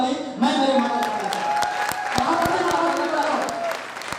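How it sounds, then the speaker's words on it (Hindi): Loud applause from a crowd at a company first-anniversary celebration, steady clapping sustained for several seconds with voices mixed in. "जोरदार ताली"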